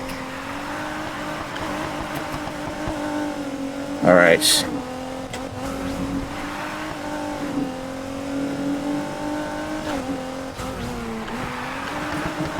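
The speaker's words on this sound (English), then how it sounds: "We out here drifting down the mountain." A drifting car in the racing game Need for Speed Heat, running down a mountain road, revs with a steady droning engine and a brief tire squeal, while someone talks over it.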